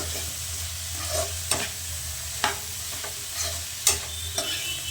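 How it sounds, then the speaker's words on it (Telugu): Cluster beans stir-fried with chili powder are stirred in a pan: a steady close sizzle with regular scraping and knocking strokes of the spoon. "కారం వేసిన తర్వాత మంచిగా కలుపుకోవాలి ఈ గోరు చిక్కుడుకాయ ఫ్రైని"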